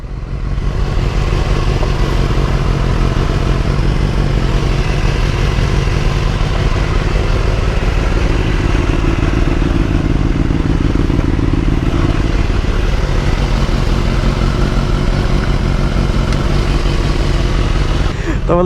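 A superbike engine runs loud and close, a dense continuous rumble with a slight rise in pitch partway through, steady for the whole stretch.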